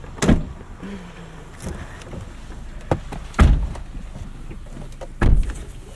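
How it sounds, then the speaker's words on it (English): Several car doors on a 2004 Honda Civic Hybrid close one after another, each a firm, solid thump close by, with quieter handling sounds between them. "Solid door close."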